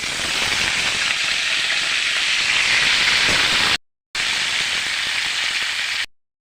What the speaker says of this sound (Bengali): এখন দিয়ে দেবো আমি এই কেটে রাখা কপিটা, এটাও একটু ভেজে নেব।